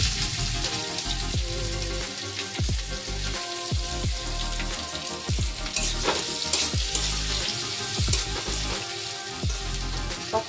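Chopped onions fry in a pan for a Bengali mocha chingri dish, crackling and sizzling loudly and steadily, with repeated stirring scrapes against the pan.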